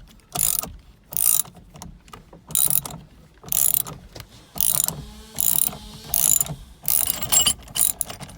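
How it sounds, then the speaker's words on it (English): A 1/2 inch ratchet cranks a puller to free the steering wheel of a Jeep JK, a close, loud run of about a dozen rhythmic clicking bursts with brief pauses between strokes and no voices. "We got our 1/2 inch, and we just basically crank it down as it pulls the wheel off."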